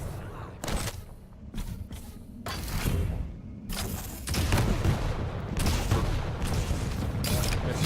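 Railgun shots and rocket blasts in a one-on-one arena shooter duel, sharp cracks and booming explosions arriving in quick irregular bursts over a steady background of game noise.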